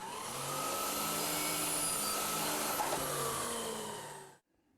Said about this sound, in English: we'll cut this over on the compound miter saw